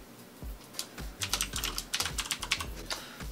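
Someone types a password on a computer keyboard, producing a close, quiet flurry of irregular key clicks and taps that lasts about three seconds.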